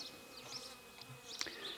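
Faint buzzing of honeybees flying around their hive, soft intermittent wing hum rising and falling, with a brief click partway through.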